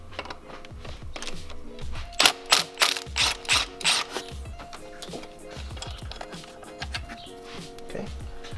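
A ratchet on a long extension with a 12mm socket turns a bolt during a Subaru WRX pitch stop mount install, a run of sharp rapid clicking bursts in the middle, close, amid faint garage noise.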